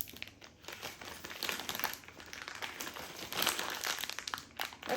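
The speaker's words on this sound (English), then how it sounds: "So we're going to rip this open." Plastic packaging of a building brick set for a farm tractor, quad bike and animal kit being ripped open, a steady close crinkling and crumpling that swells and fades over several seconds with no talking.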